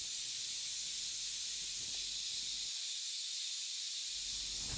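Steady, loud hiss of steam from a pressure cooker on a household stove, filling the whole clip without pause and with no talk over it.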